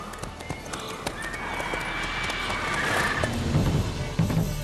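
Roach, the horse in the video game The Witcher 3, trots with rhythmic clip-clopping hooves and a brief whinny, the footfalls close and steady over game ambience.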